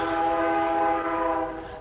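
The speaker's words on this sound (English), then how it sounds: "trains going by, wonderful" A passing train sounds a loud, close, sustained horn blast with steady harmonic tones that fades slightly toward the end, with rumbling rail noise underneath.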